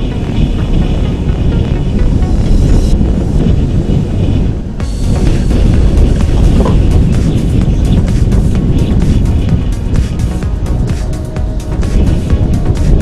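Loud, constant wind roaring and buffeting against the microphone beside Lake Balaton, carrying water spray, a heavy rumbling rush that barely lets up, with gusty crackles over it.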